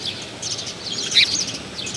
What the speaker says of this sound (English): This bird is taking a little dirt bath.